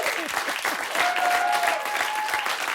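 A comedy show audience breaks into applause, a loud and even wash of clapping held for a few seconds with faint whoops and cheers mixed into it.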